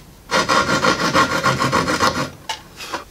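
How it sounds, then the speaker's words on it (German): A hand saw cuts wood for a sliding dovetail joint, with a rapid, even run of rasping strokes close up, followed by a couple of slower final strokes. "Und jetzt sägen wir das hier noch ab."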